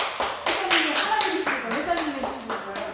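A church congregation at a Sunday worship service in New Zealand claps in a steady, even rhythm during a gift presentation. The beats sound close and fairly loud, with voices carrying over them.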